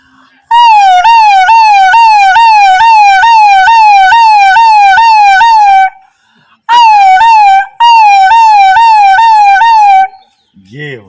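A man imitates an ambulance siren with his voice: a loud, close, rapidly warbling wail that runs for about five seconds, breaks, then returns in two shorter bursts.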